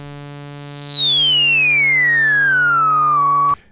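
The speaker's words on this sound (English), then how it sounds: "you'll start to hear the whine of that harmonic that we're boosting into audibility" A loud, pure resonance whine from a Moog Minimoog synthesizer filter sweeps steadily downward in pitch over a sustained buzzy tone, then cuts off abruptly at the end.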